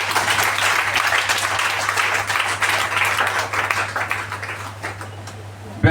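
A church congregation applauds in sustained, dense clapping at a prayer service, steady and fairly loud throughout with a low hum underneath, ending in a sudden louder burst.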